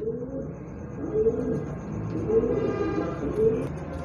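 Fancy-breed pigeons (Rampuri, Surkhy, Ferozpuri and Teddy types) coo in a steady series of soft, low, throaty rolls, close by, with four or five rising-and-falling phrases repeating and no talk over them.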